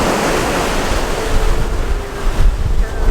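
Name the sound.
ocean waves and currents at a rocky shore, Puerto Rico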